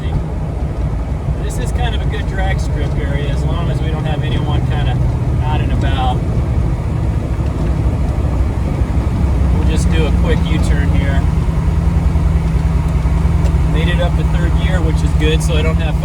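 Lamborghini Diablo engine with a freshly installed transmission on a short cul-de-sac test drive, a loud steady low rumble running throughout with rising and falling pitch, wind buffeting over it and voices talking.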